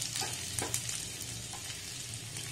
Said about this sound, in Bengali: এখানে আমি 4 চা চামচ মতো তেল রেখে এবার তার মধ্যে আমি দিয়ে দিচ্ছি আদা কুচি